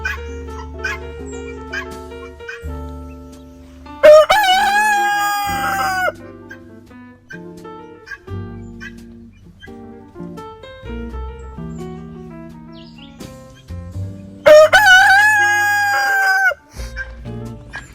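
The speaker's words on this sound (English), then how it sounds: "The rooster always crows when we come too close." A rooster crows loudly twice among a flock of chickens, each crow a strained, rising call, with clucking and scattered farmyard sounds between them.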